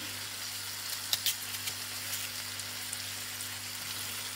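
Meat frying in a hot pan, a steady close sizzle with a few sharp pops and spatters near the start, over a faint background hum.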